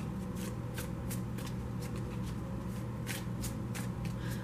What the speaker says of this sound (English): I'm going to start shuffling the next deck.